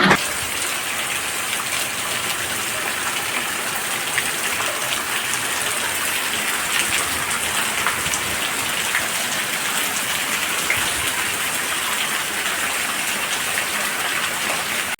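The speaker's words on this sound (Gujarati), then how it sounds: "આજે સવારે ઉઠ્યો ને તો મેઘરાજા મંડાણા જોતા બહુ જોરદાર વરસાદ પડે છે" Heavy monsoon rain pours steadily and loudly, a dense unbroken hiss of drops drumming on surfaces close by, with no voices.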